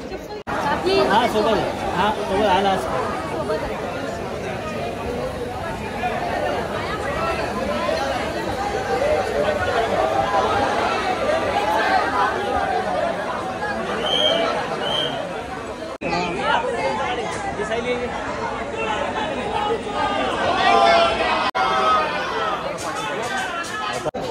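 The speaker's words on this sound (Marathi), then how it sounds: "मुंबईच्या राजाला पण खूप गर्दी आहे. पण VIP लाईन मध्ये गर्दी आहे." A dense crowd of devotees packs the VIP darshan line at Lalbaugcha Raja in Mumbai in 2024, filling the space with steady, loud, overlapping chatter and murmuring voices that run unbroken throughout.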